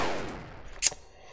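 A single sharp enemy gunshot in the video game Wolfenstein 3D, a brief loud crack standing out after a fading earlier sound, with little else around it.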